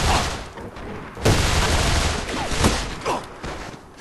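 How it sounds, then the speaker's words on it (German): Rapid automatic gunfire from a 50-round-magazine weapon in the shooter game A.V.A., dense bursts of shots rattling continuously for about four seconds with a few heavier cracks standing out. "Mit der Waffe, die hat 50 im Magazin und ballert die so schnell raus"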